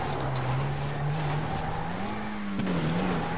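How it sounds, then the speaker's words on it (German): An off-road vehicle drives uphill in GTA 5 on PS3, its engine a steady, loud drone that rises and falls slightly in pitch, with a brief sharp knock near the end and no talking. "Das ist ein Geländewagen."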